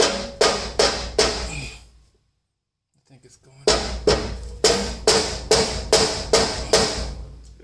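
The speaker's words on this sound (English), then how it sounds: "And let's see if I can hammer this in." A hammer strikes a steel rock slider being fitted to a Jeep TJ, landing in quick, sharp metallic bursts of three or four blows. After a short pause the blows resume in a longer run, with a few brief spoken words in between.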